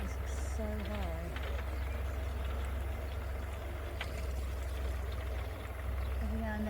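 A tractor pushes through very tall undergrowth, its steady low engine drone running throughout at moderate distance, with brief whines and rustle over the top.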